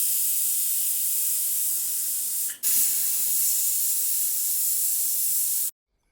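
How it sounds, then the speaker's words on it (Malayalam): A pressure cooker holding dal vents steam in a loud, continuous hiss. It pauses for a split second partway through, surges back, then cuts off abruptly. "കുക്കർ അടച്ചു വെച്ച് 2 വിസിൽ"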